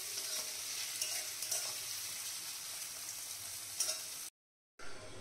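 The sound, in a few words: onions and radish frying in a pan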